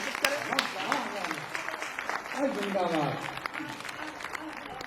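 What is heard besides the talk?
audience applause welcoming the poet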